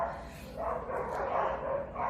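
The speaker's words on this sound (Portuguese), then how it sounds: "Às vezes vai ter uns cachorros latindo aqui no fundo" Several dogs bark in the distance behind a quiet outdoor scene, their yips and bow-wows faint and scattered through the whole stretch.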